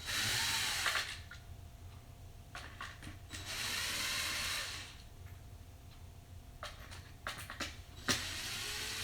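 Screws being backed out of the fan mount inside an Elation Opti Tri Par light's power supply, a close electric screwdriver whirring in short bursts separated by small clicks and pauses, with no talking.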